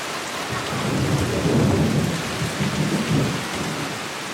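Heavy rain pours steadily in Sampela, Indonesia, a stilt village, while deep thunder rumbles and swells through the middle, a continuous dense storm with no voices.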